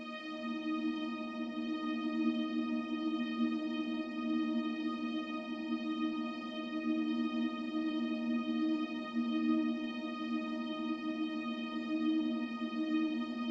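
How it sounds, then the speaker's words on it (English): A sustained, smooth synth pad drone holding a steady chord for an amapiano beat, soft and atmospheric with no rhythm, playing alone. "I added my pads slash atmospheres."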